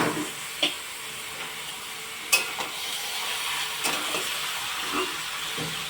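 Mutton frying with onions in a pan: a continuous close sizzle with scattered sharp crackles and spatula scrapes, no talking.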